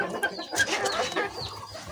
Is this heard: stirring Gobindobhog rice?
no